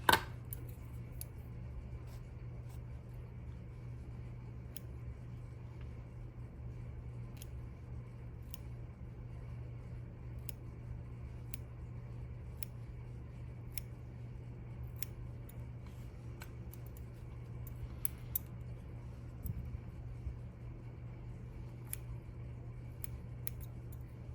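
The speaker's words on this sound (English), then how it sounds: "One of the reasons I like the curved scissors is it kind of curves over" Curved scissors trimming mink fur cut from a fur coat while shaping a teddy bear's head, giving crisp, faint, irregular snips spread across a quiet room with a low steady hum beneath.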